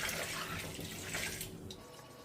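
Cold water pours into a stew pot of meat and big bones in a steady hissing splash, close and fairly quiet, thinning out near the end.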